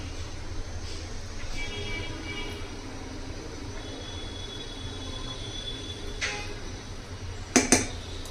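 A metal ladle moves raw plantain pieces around in a pot of tangy curry gravy. It gives faint scraping under a steady background hum, then two sharp metallic clinks close together near the end.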